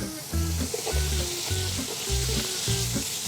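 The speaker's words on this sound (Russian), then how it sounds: "Пока наше мясо будет жариться" Meat sizzles steadily in hot oil, a constant crackling hiss with music playing in the background.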